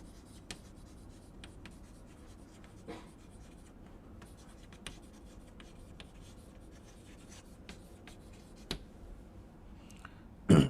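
Pen or chalk scratches out a mechanics diagram in quiet, close strokes, with faint scraping lines and occasional sharp taps over a low room hush and no talking.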